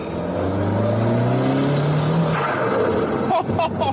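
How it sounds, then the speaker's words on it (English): A Lotus Esprit turbo revs hard on a rolling road, its engine note climbing steadily and loudly, then the wastegate vents with a rough whooshing burst near the end. "Now that is what you call a wastegate wasting."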